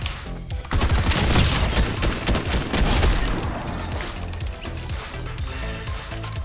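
A grenade thrown in a Chinese online shooter bursts into a loud, sustained blast amid heavy gunfire and crashing, the roar tapering off gradually.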